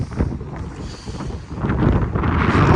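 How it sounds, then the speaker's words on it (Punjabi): Strong wind blows outdoors on a sunny Canadian winter day, buffeting the microphone with loud, low gusty rumbles that swell and build toward the end, with no one talking. "ਹਵਾ ਦਾ ਬਹੁਤ ਔਖਾ ਕੰਮ ਇੱਥੇ"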